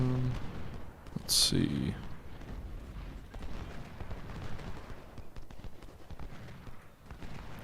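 A single heavy artillery boom in the Civil War strategy game Ultimate General: Civil War, a sharp burst with a short rumble, followed by distant battle noise while someone talks over it.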